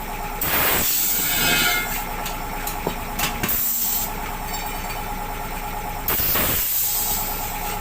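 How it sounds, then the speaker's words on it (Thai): Loud pneumatic hissing and mechanical pressing noise from a tire bead breaker pushing a 10.00-20 truck trailer tire off its rim, with bursts of air release and grinding rubbing sounds, continuous and close throughout. "ก่อนอื่นก็ต้องใช้เครื่องกดขอบยาง กดให้ยางหลุดออกจากคิ้วล็อกกระทานะครับ"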